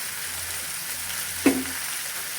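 Chopped ginger goes into a pan of frying jackfruit chili, giving a single soft thud and stir over a steady, even sizzle.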